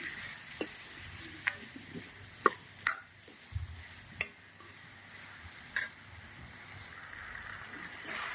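Steady sizzling from a hot pan of tomato and onion masala with turmeric and salt, broken by several sharp scrapes and taps of a spoon stirring the mixture, with no voices.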